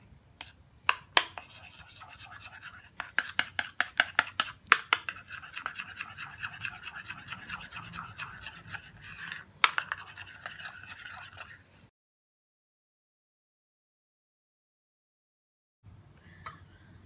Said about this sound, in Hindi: अब इन सब चीज़ों को हम मिक्स करेंगे अच्छा सा।